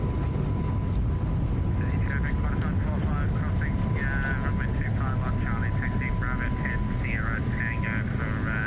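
An airliner accelerates down the runway for takeoff in the X-Plane 12 flight simulator at Melbourne Airport, a steady broadband engine roar filling the clip, with a faint steady tone and voices talking over it throughout.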